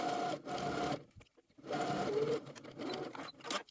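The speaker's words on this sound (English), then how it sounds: "then just stitch close to the edge of the fold to finish" A sewing machine stitches a dress hem close to the edge of the pinned fold, running in two steady bursts split by a short pause, close and fairly loud.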